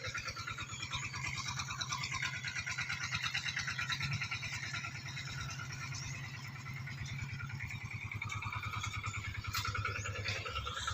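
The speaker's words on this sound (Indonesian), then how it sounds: "ini agak bising ya, bising suara diesel" A diesel engine runs steadily by a pond, its rapid low chugging pulse continuous and fairly close, with faint outdoor background and no talk.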